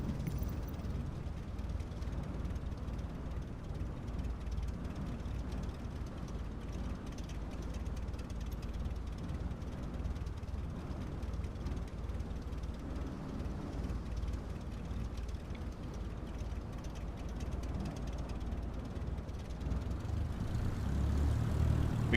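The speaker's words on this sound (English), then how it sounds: "Taxiing to general aviation parking using taxiway cross runway 4 right Golf cross runway 22 right Golf Bravo Papa Alpha" An aircraft taxiing to general aviation parking in Microsoft Flight Simulator 2020, a steady low engine drone with propeller rumble holding constant and fairly quiet for over twenty seconds, no voices.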